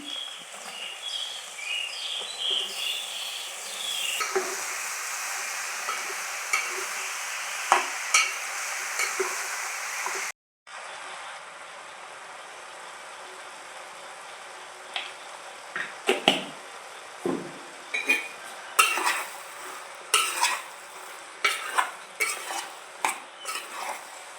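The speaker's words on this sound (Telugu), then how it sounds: "ఉల్లిపాయ ముక్కలు అయితే వేగుకొని బీరకాయ ముక్కలు వేసుకుందాం" Onion pieces and ridge gourd sizzling in a pan with a steady frying hiss, broken by a short gap, then repeated scraping and clinking strokes of a spoon stirring against the metal.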